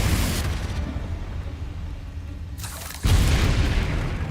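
Confringo fire spell blasting in Hogwarts Legacy: a loud booming burst opens, the roar thins and fades, then a second heavy explosion hits near the end, dense and close with no talking.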